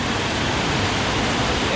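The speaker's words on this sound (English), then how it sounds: "The water's really high right now." The Beecher Cascade waterfall running high, a dense, steady roar of rushing water filling the whole clip, loud and close, with no breaks or other sounds.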